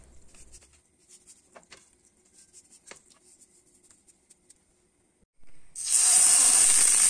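Salted chicken pieces are placed in hot oil in a pot on the stove to sear, first a few faint scattered pops and clicks, then a loud sudden hiss of sizzling that builds and holds to the end.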